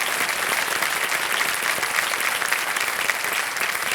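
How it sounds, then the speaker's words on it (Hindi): Loud, sustained applause from a game-show studio audience on KBC (Kaun Banega Crorepati) welcoming a contestant, dense steady clapping with no let-up for the whole stretch. "जोरदार तालियों के साथ मैं चाहता हूं कि इनका स्वागत किया जाए।"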